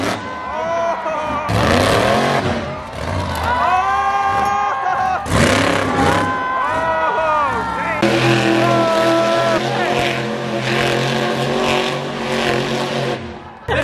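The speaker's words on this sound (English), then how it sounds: "The monster trucks are about to go crazy." Monster trucks roar through a show at a fair, engines revving hard and rising in bursts with jump runs, loud but heard from the stands amid crowd noise and people talking nearby.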